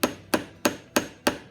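Wooden keys hammered into the corners of canvas stretcher bars, five sharp evenly spaced knocks in a steady rhythm, close and loud with no talking.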